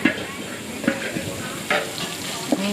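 Steady sizzling of Korat-style pad thai frying in a giant wok at a night market, with occasional scraping stirs of a spatula at irregular intervals.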